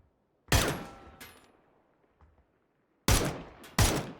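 Gunfire in the battle-royale video game PUBG rings out in short separate bursts, a loud shot followed by another, a pause, then two more sharp cracks close together, with no talk over them.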